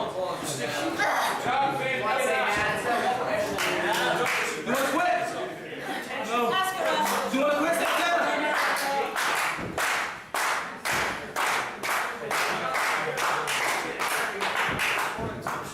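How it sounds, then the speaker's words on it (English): A women's extreme wrestling crowd cheering and clapping, a dense roar that turns into loud, regular rhythmic claps in the second half while a commentator talks over it. "You can hear the crowd rally behind Santana."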